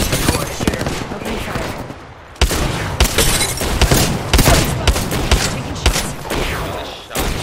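Loud gunshots in a battle royale-style video game come as sharp, irregular cracks and short bursts over constant action noise, with someone speaking faintly.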